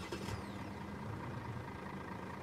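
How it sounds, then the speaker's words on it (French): Mercedes GLC 400d 2020 SUV with a six-cylinder diesel idling just after starting, a faint, muted steady hum with a brief brighter whine at the beginning. "La voiture a démarré."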